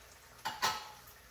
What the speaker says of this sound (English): All right, I'm gonna add some coconut milk.